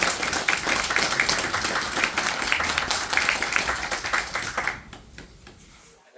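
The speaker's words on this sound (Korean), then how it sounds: "조합원님들께서는 큰 박수로 환영하여 주시기 바랍니다" Union members at a residents' briefing on an architectural design clap to welcome their chairman, with dense applause that dies away near the end.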